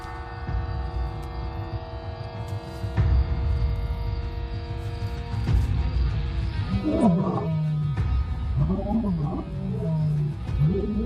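Lions roaring at night around a safari lodge, deep throaty calls rising and falling in the second half over a steady low rumble of background noise.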